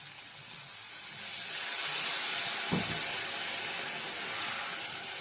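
Green chilli and ginger paste hits hot oil over fried potatoes, giving a steady close, broadband sizzle that swells in the middle, with a single brief clunk partway through and no voices.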